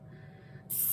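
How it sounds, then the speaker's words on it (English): Cooking oil spray released onto a baking pan, a short sharp hiss bursting in near the end after a quiet moment, close and fairly loud. "it gives it like a nice spray throughout the whole pan"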